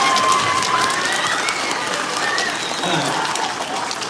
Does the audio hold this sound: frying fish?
no